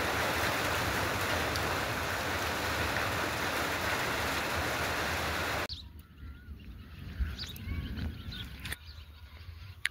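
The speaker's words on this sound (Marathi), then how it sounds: "आता पाऊस पडतोय चांगला" The first April rain of summer pours down in a dense, loud, steady hiss, then cuts abruptly to a quieter outdoor scene with scattered bird chirps and light patter.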